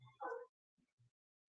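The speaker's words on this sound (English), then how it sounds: "maybe you hear one of my dogs barking behind me here" A dog gives a short burst of barking and whimpering yips close by, followed by two faint low woofs, with quiet gaps between.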